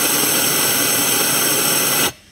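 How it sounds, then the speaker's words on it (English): A close, loud, steady hiss of compressed air blows into the spark plug hole of a cylinder on a Ford 1.5L EcoBoost GTDI engine. It cuts off abruptly after about two seconds. "positive pressure inside the cylinder to blow anything that's in there out"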